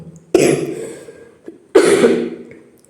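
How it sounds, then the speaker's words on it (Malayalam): An adult with a cold coughs twice, close and loud, each a harsh burst that trails off, with a short pause between them. "ഒരു വർത്തമാനം പറഞ്ഞ് പത്ത് ചുമ വരും"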